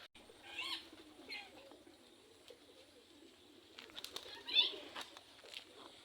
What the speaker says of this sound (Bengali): এখানে কবিতর আছে